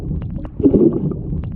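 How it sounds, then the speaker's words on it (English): Swimmer's hand entering the water during freestyle laps, a short soft splash and gurgle heard close amid low underwater churning, with no talking. "A good hand entry should sound like this."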